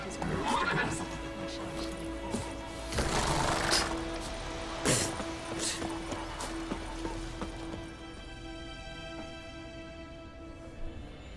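Roach, a horse in the game Witcher 3, whinnies loudly a couple of times over clopping hooves and scuffling, with someone talking in between and a steady low drone underneath.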